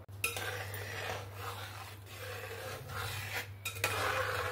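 Rice payesh made with Gobindobhog rice being stirred in a pot, a steady scraping rub of spoon against metal with a few sharper clinks, close and continuous over a low background hum.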